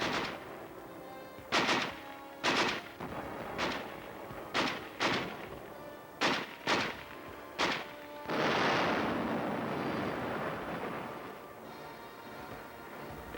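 A big artillery gun fires repeatedly at a snowy winter front in Korea, about nine heavy booming shots at an uneven pace, then a broad rushing roar that slowly dies away.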